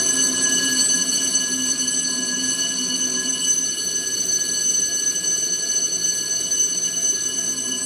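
A hotel fire alarm sounding during a fire drill, a continuous high electronic tone held steady and loud throughout with no talking.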